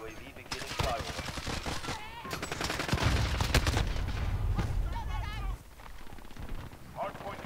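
Rapid gunfire from a CR-56 AMAX assault rifle in Call of Duty: Modern Warfare, loud bursts and fusillade-like volleys through most of the stretch, with in-game voice callouts and talk mixed in.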